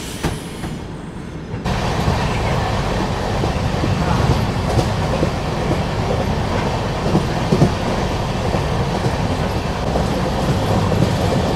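Durg Nizamuddin Humsafar Express pulling out of Raipur station, a steady loud rumble of rolling coaches with rhythmic wheel clatter throughout, heard from on board with a brief quieter moment at the start.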